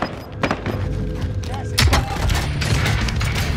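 A single sharp sniper rifle shot rings out in the Fortune's Keep battle-royale match, a loud broadband crack near the two-second mark, set among scattered thuds, clicks and other game noise.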